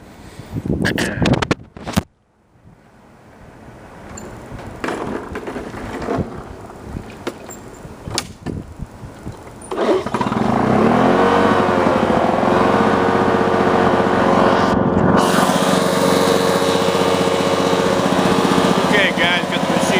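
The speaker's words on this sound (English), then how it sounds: "So I'll go ahead and fire it up here." A Lawn-Boy model 8243 mower engine is pulled over and catches, a few sharp starting tugs and handling knocks giving way to a loud, steady close running drone.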